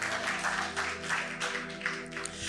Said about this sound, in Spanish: Desen un aplauso a ustedes mismos